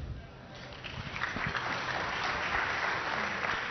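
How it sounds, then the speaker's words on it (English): Applause from an audience at a conference plenary session, with clapping swelling from moderate to full and steady over a few seconds. "please take a seat and give a round of applause for Lauren and Ian."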